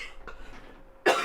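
A single sharp cough bursts out near the end, loud and close, after a stretch of quiet room tone with a few faint soft sounds.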